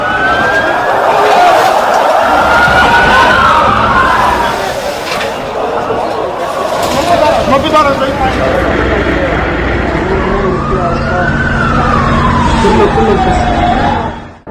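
Ambulance sirens wail at a blast site in Lebanon, with rising and falling tones sweeping over loud crowd noise and shouting, close and continuous.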